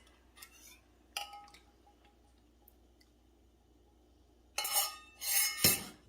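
Eggs being stirred into a pasta mixture in a bowl: a few faint ticks and taps at first, then a louder spell of wet scraping and clattering toward the end, close by with no talking.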